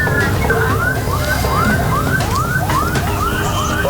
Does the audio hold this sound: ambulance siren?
yes